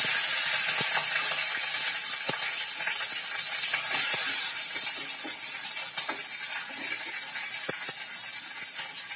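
Mustard seeds, cumin and green chillies sizzle in two spoons of hot oil for a potato masala, a steady close hiss broken by scattered sharp pops and crackles.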